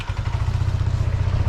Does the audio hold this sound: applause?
no